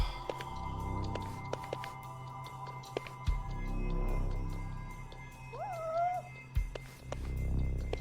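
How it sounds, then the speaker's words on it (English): A cat meows in the video game Judgement, a rising then falling call near the six-second mark over a steady ambient game hum with low thuds, no talk. "I hear you, kitty."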